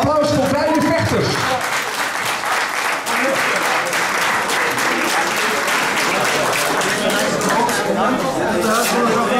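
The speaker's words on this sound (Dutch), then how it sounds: "Applaus voor beide vechters." Sustained audience applause for two fighters after a fight ends, dense and steady from start to finish, with a voice speaking briefly over the opening moments.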